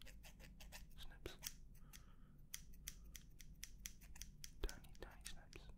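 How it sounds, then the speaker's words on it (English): Scissors take tiny snips of hair during an ASMR haircut roleplay: quick, crisp, close-up cuts in irregular bursts, with faint whispering underneath. "Now here we're going to be taking tiny little snips."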